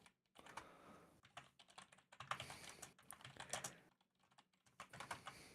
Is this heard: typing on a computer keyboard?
yes